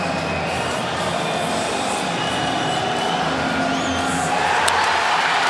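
A packed ice hockey arena crowd roars during a 2009 NCAA men's regional game between Vermont and Air Force, a sustained, distant wall of cheering that holds steady and swells slightly near the end.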